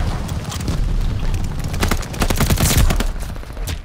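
Rapid AS-44 assault rifle fire in Call of Duty on the Shipment map, a dense run of close, loud gunshots bursting steadily for several seconds with heavier cracks near the end.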